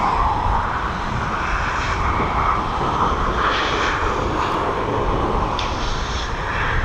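A steady, loud engine roar and broadband rumble surround an aircraft being towed by a tug to a stop on the apron at East Midlands Airport. The roar runs unbroken, with no voices.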